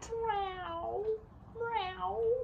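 A human voice imitates a cat's meow during a read-aloud picture book, giving two drawn-out, rising-then-falling meows close to the listener with a short pause between them.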